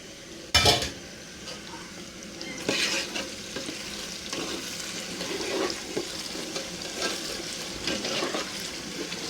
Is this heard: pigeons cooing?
no